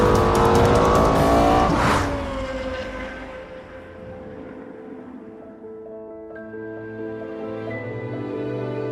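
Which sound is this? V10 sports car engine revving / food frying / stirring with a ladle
V10 sports car engine revving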